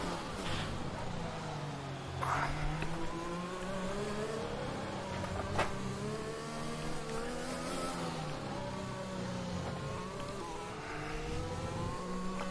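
Race cars in the F1 2021 video game, several engines droning and shifting pitch together as they rise and fall through gears, a continuous steady roar at moderate level.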